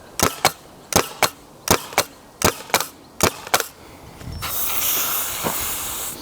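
A 400fps HPA Nerf blaster fires a rapid series of about nine sharp pneumatic shots in steady rhythm, then a continuous loud hiss of escaping air follows, as from a leaking fitting.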